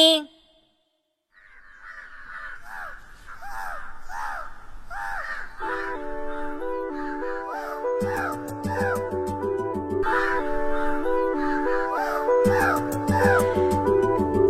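Cartoon crows at a crow wedding in a village tree caw again and again in quick, loud calls, joined partway through by bright festive music playing underneath.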